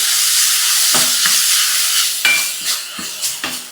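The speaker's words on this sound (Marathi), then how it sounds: "कांदा इथे 4 ते 5 मिनिटं मऊ होईपर्यंत परतून घेऊया" Chopped onion sautéing in a pan with asafoetida and dried red chillies, a steady broad sizzle broken by several scraping stirs of a spoon against the pan, close and fairly loud, with no talking.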